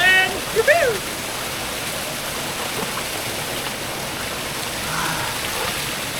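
Chan Ta Then waterfall in Chonburi, Thailand, pours in a steady, broad hiss of falling water, with a few faint chirps and brief bumps near the start.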